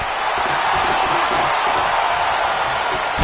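Capacity arena crowd at a WWE 2K19 wrestling match, a loud, continuous roar of cheering and whooping that fills the space, with a commentator's voice faintly mixed in.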